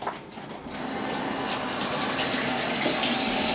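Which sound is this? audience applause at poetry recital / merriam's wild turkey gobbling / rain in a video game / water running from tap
water running from tap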